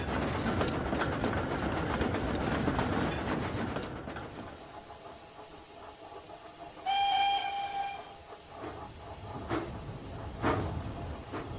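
A train in an animated story rumbles along, then a bright whistle sounds clearly for about a second, followed by quieter rolling and a few sharp clanks, with no talking.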